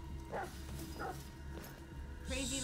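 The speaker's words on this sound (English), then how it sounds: "Goddamn dogs." Dogs barking in the video game Detroit: Become Human, a few short yips and barks spaced across the moment, mixed with game ambience and background noise.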